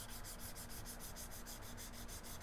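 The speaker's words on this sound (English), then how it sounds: "There, that's some 800 grit now, and you can see the very faint line here that I had engraved, and we basically sanded away." A Browning 725 shotgun's wooden stock is sanded by hand with 800 grit sandpaper during a butt crack repair, giving a steady, close, even rubbing hiss with quick regular strokes and no speech.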